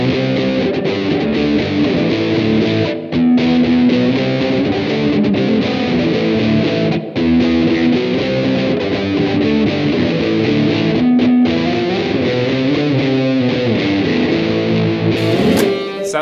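Electric guitar through a new amplifier's super crunch channel with reverb, crunchy overdriven chords and riffs played continuously and loudly, notes trailing into a spacious wash, with no talking.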